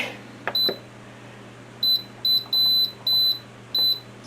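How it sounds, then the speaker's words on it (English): An Instant Pot pressure cooker gives a string of short, clear electronic beeps, one early and then five in quick irregular succession, over a quiet kitchen background with a steady low hum. "Sorry about all the beeping."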